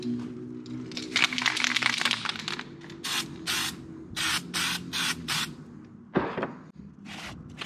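Aerosol spray paint hissing in short repeated bursts as coats go onto plastic car hubcaps, close and fairly loud, with a brief knock between passes.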